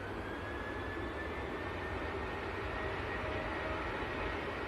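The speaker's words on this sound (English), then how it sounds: "Talking of BizJets, we've got the little citation over there. Tom, just taxiing out." A small Cessna Citation business jet taxis at an airport, giving a faint, distant, steady engine whine and rumble with no pauses.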